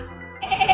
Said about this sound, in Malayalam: കറക്റ്റ് ആട്.